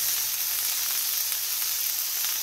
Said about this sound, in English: I'm searing the steak now